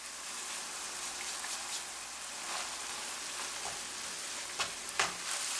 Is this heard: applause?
no